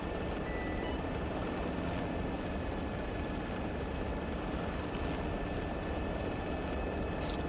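A helicopter drones in the military video game Arma 3, a dense, steady rotor and engine roar that stays constant and loud throughout with no talk over it.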